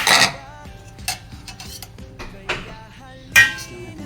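Papaya pickle (atsara) with chili is stirred in a bowl, a utensil clinking and scraping against the dish in a few sharp knocks amid steady soft stirring, close and moderately loud with no talk.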